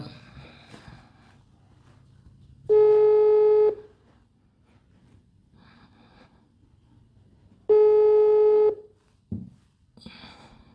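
A phone call goes unanswered while dialed again, giving two clear, loud ringback beeps about five seconds apart, each lasting roughly a second, with faint room noise and small clicks in the pauses.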